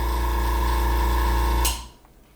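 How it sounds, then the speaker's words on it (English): An airbrush air compressor with a tank runs as a loud, steady motorized hum with a tonal whine, then cuts off abruptly partway through, leaving quiet room tone. "There goes the compressor again."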